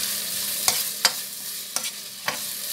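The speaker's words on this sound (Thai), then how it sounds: "ตั้งกระทะให้ฮ้อนแล้วเฮาก็ใส่เครื่องแจงเฮาลงไป" Yellow curry paste fries and is stirred in a hot pan for a duck stir-fry: a steady low sizzle runs throughout, broken by four sharp spatula scrapes at uneven intervals, close and fairly loud, with no talking.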